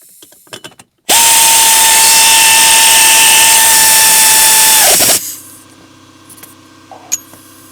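A power drill drives a screw into metal during a 2002 Acura MDX cabin air filter replacement, one loud sustained whine lasting about four seconds before it stops, with faint handling noise afterward.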